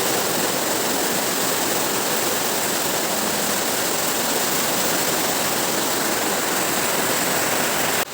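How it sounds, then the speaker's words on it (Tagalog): Heavy rain pours steadily over rice fields and a building under construction, a loud, dense, unbroken hiss that stays constant for the whole stretch with no voices. "Inabot tayo ng ulan."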